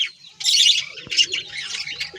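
Young white pigeon chicks squeak in short, high, bursting calls, repeated several times in close succession, fairly near and clear with no talk.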